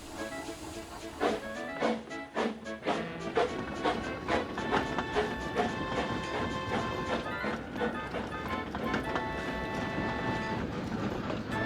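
A diesel locomotive pushes a train from behind, rumbling and clanking as wagons bang together, with rhythmic metallic knocks and a steady engine drone building through the scene.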